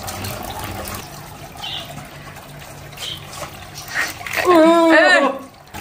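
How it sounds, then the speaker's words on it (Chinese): A small artificial waterfall trickles and splashes in a micro landscape built in a pig feeding trough with a rockery and moss, the flowing water steady beneath people talking nearby. "先试一下建哥的人造瀑布"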